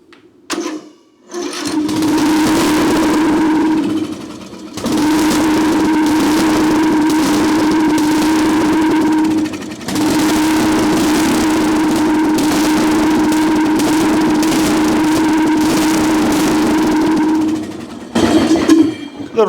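Trashed Craftsman riding lawn mower engine running loud and raspy through a holed exhaust, a steady close drone that cuts out briefly around five and ten seconds, then stops near the end.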